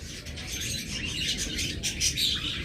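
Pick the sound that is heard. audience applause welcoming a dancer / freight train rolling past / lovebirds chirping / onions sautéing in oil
lovebirds chirping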